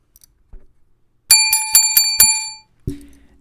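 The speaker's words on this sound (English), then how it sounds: "An extra loud ring of the bell" A bicycle bell rings five quick, bright metallic strikes in a row, loud and close, followed by a short thud.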